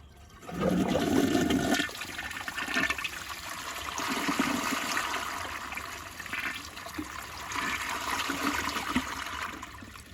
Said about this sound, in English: the flush is really cool